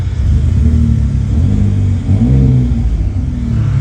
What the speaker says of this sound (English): Oh, he's revving it up.